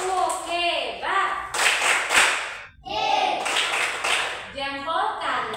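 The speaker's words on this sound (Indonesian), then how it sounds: "Coba tepuk hebat untuk Gisel. Tepuk hebat." A classroom claps a patterned 'tepuk hebat' cheer in loud bursts, mixed with children's chanting voices and a brief pause midway.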